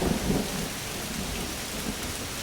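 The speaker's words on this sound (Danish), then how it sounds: "regnen," Steady rain pours down in a thunderstorm, a dense continuous hiss with low rumbling underneath, loud and unbroken, with no voices.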